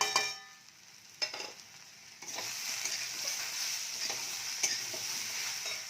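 Ground chili, cumin and Kashmiri chili powder sizzle in hot oil in a pan alongside okra, potato and fish, a steady bright hiss broken by a few sharp stirring scrapes, close and alone without talk.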